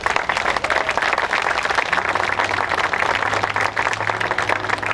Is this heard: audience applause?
yes